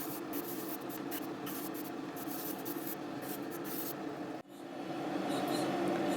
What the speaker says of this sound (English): primer sprays brilliantly through this airbrush